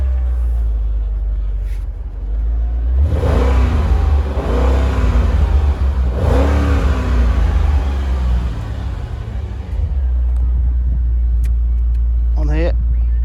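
Mercedes-Benz SL55 AMG with its 5.4 supercharged engine rumbles deep and close, swelling in a couple of strong revs before settling back to a steady throb, with a voice talking over it.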